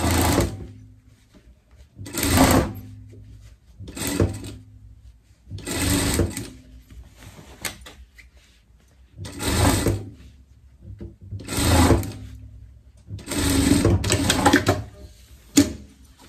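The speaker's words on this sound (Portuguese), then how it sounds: "Passada a costura de segurança" Sewing machine running a safety seam on a fashion pet coat, with several loud, close bursts of fast mechanical stitching separated by short quiet gaps.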